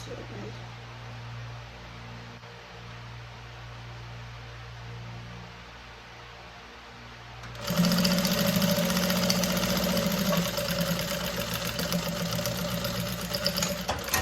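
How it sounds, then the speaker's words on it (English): A sewing machine stitches a seam on an inbuilt corset dress, starting abruptly after a quieter stretch of low room hum and then running as a continuous close mechanical whir to the end. "so you sew it down just the way I'm doing it"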